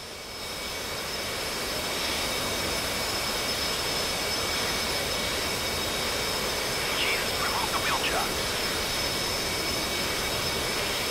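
Steady jet engine roar from an F/A-18C Hornet in the DCS flight simulator, a loud continuous broadband rumble and hiss that holds at constant level for the whole stretch with no speech over it.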